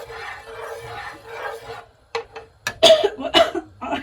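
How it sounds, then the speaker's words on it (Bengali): Several sharp coughs near the end, while cooking with eggs, following a stretch of low murmuring background noise; the coughs come in quick bursts, loud and close. "কাশি চলে আসছে"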